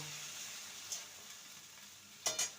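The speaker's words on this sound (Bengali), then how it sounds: "মশলার মিশ্রণটা ভালো করে কষিয়ে নেব" Coriander, cumin, ginger and whole garam masala spice mix being fried in a pan, with a soft, quiet sizzle, a scrape of stirring near the middle and two sharper utensil knocks near the end.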